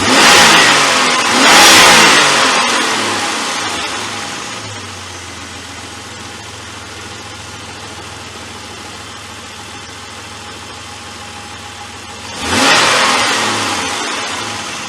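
A Jeep engine revs hard and roars, then settles into a steady low idle for several seconds before a second loud rev surges up near the end.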